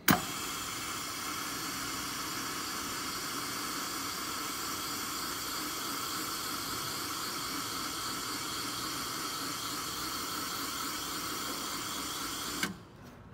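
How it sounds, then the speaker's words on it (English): A spark plug cleaner abrasive-blasts a spark plug in a steady, even hissing rush that holds for a full rotation before cutting off abruptly, with no voices. "we're going to go ahead and blast clean it for 1 full rotation"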